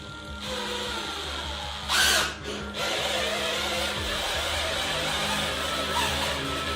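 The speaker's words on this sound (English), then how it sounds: "Put your full power on the drill." A handheld power drill runs continuously at full power, a steady loud motor whine with a brief surge in pitch and load around two seconds in, then settling back into an even drone.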